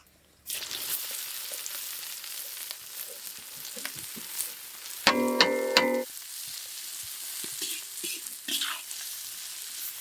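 Chopped onions frying in oil in a pan for samosa filling, a steady close sizzle running throughout with a brief burst of brighter stirring or scraping clatter in the middle.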